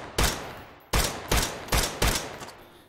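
Five loud, sharp gunshots from a rifle fitted with a muzzle brake in a VR shooting game, spaced roughly evenly with each blast trailing off into a short echoing decay, heard alone without talk.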